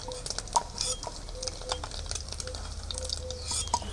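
Eggs fry in hot oil in a pan, giving a soft, steady crackle. Occasional utensil stirs and light metallic clinks sound close by.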